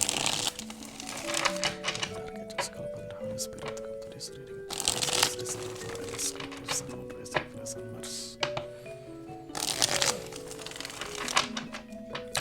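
A deck of tarot cards is shuffled by hand in repeated riffling bursts with snaps and soft slaps, close up, while a tonal melody plays underneath throughout.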